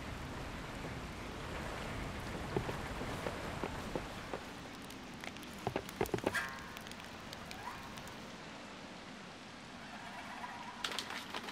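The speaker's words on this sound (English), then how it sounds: "A hard rain, this. Heavy and relentless." Heavy, relentless rain falls in a steady broadband hiss, with scattered sharper drops and brief spatters around the middle and near the end; no one speaks.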